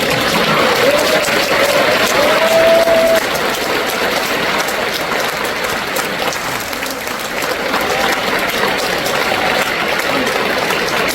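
A church congregation at an Easter union service claps warmly and continuously for over ten seconds, a dense, even wash of applause from a large crowd in a hall, with a brief tone audible early on.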